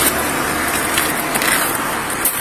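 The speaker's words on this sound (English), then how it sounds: "Do you want me to turn my car off, or? You can leave it run for them." A car engine left idling outdoors, a steady close rumble that holds evenly throughout with faint background noise and no talking.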